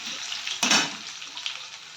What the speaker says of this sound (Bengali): পেঁয়াজ দিয়ে এই যে ভাজা করে ফেলবো